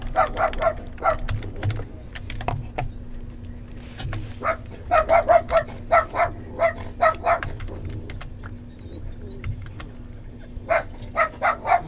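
Excited barking from a pet dog that has gone wild, repeated bursts in uneven clusters across the whole stretch, moderately near over a steady low hum.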